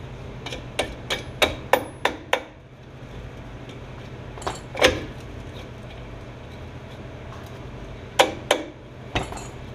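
A small hammer strikes rusted brake parts on a 1966 Ford Galaxie 500 in a quick series of sharp metallic taps, pauses, then delivers a few more scattered blows, close and ringing.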